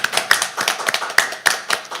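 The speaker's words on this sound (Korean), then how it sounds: "네, 박수로 환영해 주시기 바랍니다." A small audience at a regional development policy debate forum claps to welcome a panelist, producing a sparse patter of distinct hand claps at moderate volume with no talk over them.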